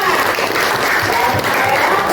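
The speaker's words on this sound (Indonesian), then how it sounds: "Tepuk tangan dulu untuk para semua" Steady, dense applause from a group in a school setting, continuous clapping throughout with faint voices mixed in.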